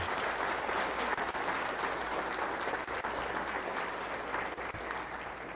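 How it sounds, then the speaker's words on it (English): An audience at a company quarterly meeting claps steadily and fairly densely throughout, a sustained wash of applause without a break. "So you all deserve a big round of applause"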